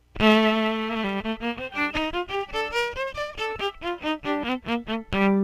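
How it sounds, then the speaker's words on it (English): A bowed electric violin plays a quick melodic line of sustained and detached notes, bright and rich in overtones, close and loud with no talking. "so this is the sound of the electric violin."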